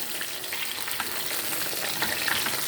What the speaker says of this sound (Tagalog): nagtitrito tayo ng boneless bangus daing